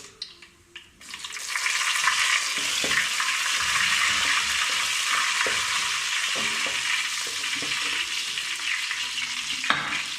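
Oil frying in a pan for Kerala-style chicken curry, starting quiet and rising after a second into a steady, loud sizzle that holds throughout, with occasional stirring clinks; no one talks.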